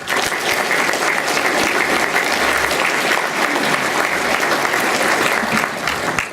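An audience at a political talk gives David Stockman sustained, dense applause, many hands clapping steadily and fairly close, with no voices over it.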